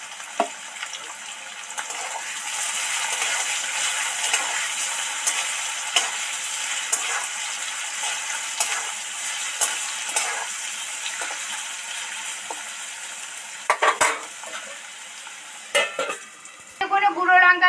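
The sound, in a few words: stirring and frying chira pulao with turmeric in a pan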